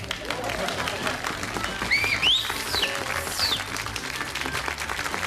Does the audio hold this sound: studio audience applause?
yes